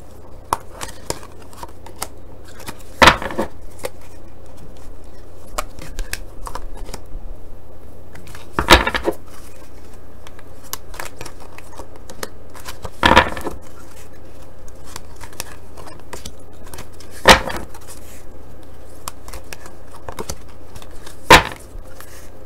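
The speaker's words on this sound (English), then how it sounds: "I'm going to pull 6 cards." Tarot cards handled during a love reading: soft papery shuffling under a quiet room hiss, punctuated by five distinct snapping slaps as cards are drawn and laid down at spaced intervals, close and alone.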